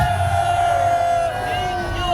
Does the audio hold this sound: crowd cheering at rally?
yes